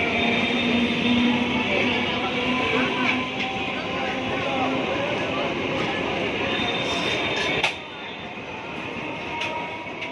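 Steady rumble and rattle of a crowded passenger train in motion, heard from inside the carriage, with continuous wheel and track noise and a sharp clank near the end, faint voices mixed in.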